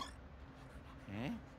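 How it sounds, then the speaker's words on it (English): A small ghost dog in the video game Luigi's Mansion 3 gives a single short, yelping bark over quiet background sound. "Excuse me, how are you barking?"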